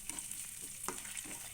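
Garlic fries in a wok-style pan for salted peanuts, crackling in a close, steady sizzle with faint stirring scrapes and no voices.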